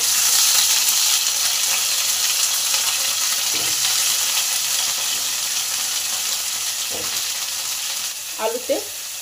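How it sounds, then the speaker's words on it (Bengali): Potatoes frying in well-heated oil in a kadai, a loud, dense, continuous sizzle that holds steady throughout, with a few faint utensil clinks near the end. "তেলটা ভালো করে গরম হয়ে গেলে আলুগুলোকে ভেজে নেব।"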